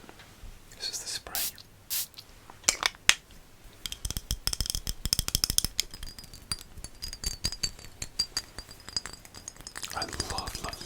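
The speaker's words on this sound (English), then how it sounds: "I love perfume tapping" Fingernails tap rapidly on glass perfume bottles, crisp close clicks and taps in quick irregular bursts, with a few isolated louder knocks at the start, recorded intimately up close.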